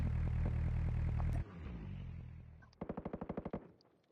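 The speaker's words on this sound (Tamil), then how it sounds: "நிறைய பேர் சுட்டுக்கிற மாதிரி இருக்குது" Gunfire from many players in a Call of Duty battle royale match: a loud, dense burst of automatic fire, a brief lull, then a rapid string of about ten crisp shots.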